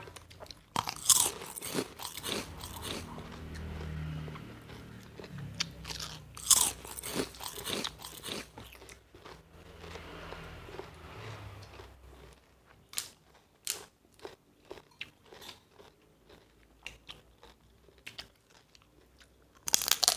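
Crispy pork rinds being bitten and chewed up close, with loud irregular crunches clustered in bursts and quieter chewing between them, eaten alongside a spicy papaya salad.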